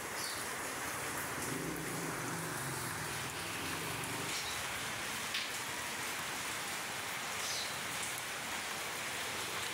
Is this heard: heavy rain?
yes